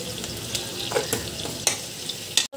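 Turmeric, chili and coriander powder frying with pointed gourd in a pan, a steady close sizzle broken by scraping stirring strokes and a few sharper clatters, with no talking.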